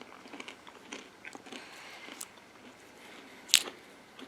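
Nuts from a mixed nut pack being chewed up close, with soft, irregular crunching and mouth sounds and one sharp snap near the end, no talking.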